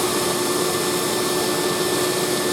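A fluid bed coffee roaster runs with a loud, constant blower roar and a steady hum, unchanging throughout.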